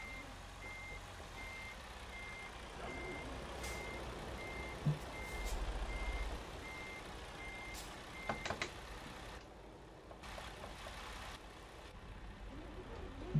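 A truck in American Truck Simulator reverses, its backup beeps sounding faintly over a low, steady engine rumble, with a few brief clicks and knocks and no talking.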